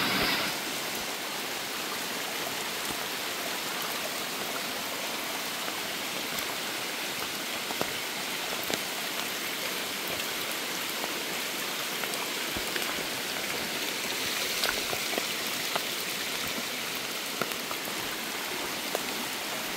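Steady heavy rain and rushing water during Typhoon Kristine, a dense continuous wash with scattered drips and splashes, no voices.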